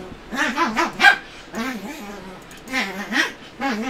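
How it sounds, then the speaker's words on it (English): Pet dogs play indoors, letting out a series of bouncy, yipping barks and playful growly vocalizations in bursts. The sounds are fairly close and lively, with short pauses between flurries. "those are my dogs playing in the background."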